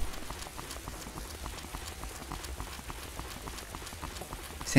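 Heavy rain in the video game Raw Danger, a steady, fairly quiet patter of drops with faint rhythmic tapping running throughout, no voices.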